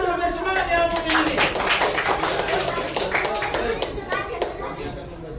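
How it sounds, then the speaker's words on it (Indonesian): A classroom of children claps in rapid, uneven bursts that continue steadily, mixed with lively children's chatter and shouting. "Kasih tepuk tangan dulu biar semangat ya Mukmin ini."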